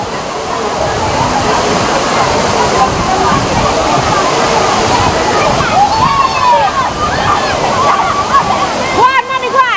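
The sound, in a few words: river water rushing at Dunn's River Falls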